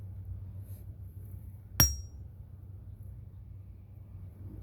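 A single sharp hammer strike cracks open a ringing rock, giving one bright metallic ping that fades quickly over a quiet low background hum.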